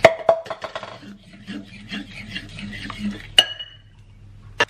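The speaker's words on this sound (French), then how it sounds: "Donc je vais mélanger ça d'abord. Donc je vais ajouter mon lait au fur et à mesure pour bien délayer." A whisk or spoon stirs flour and milk into a batter in a bowl, making close, clinking and scraping strokes in an uneven rhythm, with a sharp utensil tap near the end.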